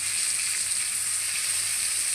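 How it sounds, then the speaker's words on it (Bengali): Sponge gourd pakoras deep-frying in hot oil, a steady loud sizzle throughout with no talking. "পাকোড়াটা আমার দুই দিকে সুন্দর করে ভাজা হয়ে গেছে,"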